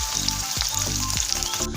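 Bitter gourd pieces fry in hot oil, giving a steady, close sizzle with faint crackles throughout, joined by a low repeating hum and a few scraping stirs, and no voices.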